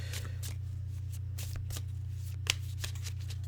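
A Santa Muerte oracle card deck being shuffled close up: soft, repeated riffling bursts of cards over a steady low electrical hum.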